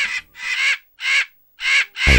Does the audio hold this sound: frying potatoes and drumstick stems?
no